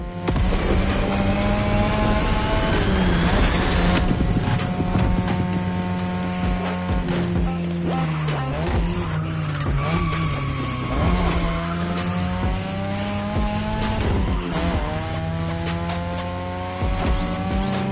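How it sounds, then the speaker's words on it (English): Loud, sustained rotary engine of a 2002 third-generation Mazda RX-7 racing in The Crew Motorfest, with rising and falling revs through gear changes and brief tire squeals, no talk. "Tonight your ride is a 3rd Gen 2002 Mazda RX-7."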